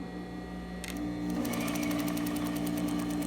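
A sewing machine stitches a dart in a basic skirt, starting with a brief quieter whir and then running steadily with a rapid, even needle rhythm close by, with no talking.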